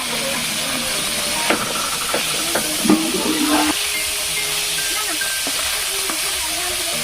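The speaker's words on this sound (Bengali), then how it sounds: "কড়াইয়ে সরষের তেল দিয়ে দিচ্ছি, তেলটা গরম হয়ে গেছে, মাছটি অল্প অল্প করে দিয়ে দিচ্ছি" Fish pieces drop into hot mustard oil in a wok, a loud continuous hiss and sizzle with a few crackling bursts and faint clinks close by.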